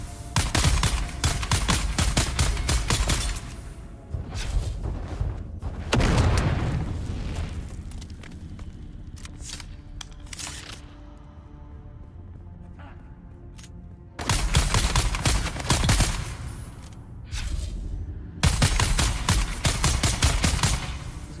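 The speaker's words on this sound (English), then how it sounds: "These explode." Explosions and heavy gunfire in the sci-fi survival game Dune Awakening, in loud bursts of booms and rapid shots broken by a quieter stretch of rumbling debris before more blasts erupt.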